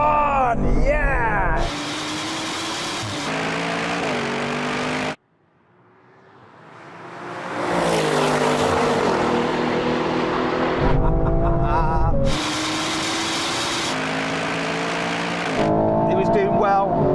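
Aston Martin cars drag racing on a strip, one spinning its wheels off the line: loud engine roar with revving gear changes, a brief sudden drop to near silence, then engines building again, with people talking over it.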